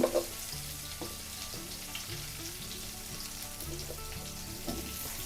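Eggplant fries in oil with salt in a pan, a soft, steady sizzle with a faint crackle under a low repeating hum, quiet and close, plus a couple of brief clinks near the start and end.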